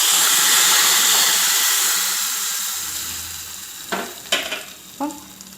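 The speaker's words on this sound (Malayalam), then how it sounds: "കടുക് പൊട്ടിയിട്ടുണ്ട്." Mustard seeds pop and crackle in hot oil for a Kerala raw mango buttermilk curry, a steady broadband sizzle that fades slightly, then a few sharp, close pops near the end; no talking.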